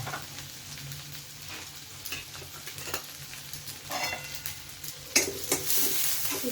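Finely chopped onion fries in a pan with red chilli, a steady close sizzle broken by scraping stirs and a few sharper clatters of the spoon against the pan.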